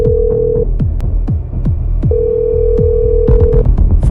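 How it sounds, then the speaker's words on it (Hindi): A steady electronic phone tone sounds in two long beeps, with a separate pulsing, throbbing sound running underneath throughout. "फोन बजता है।"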